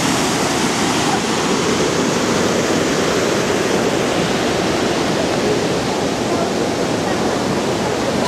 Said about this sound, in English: now we're coming to see the rest of the waterfalls.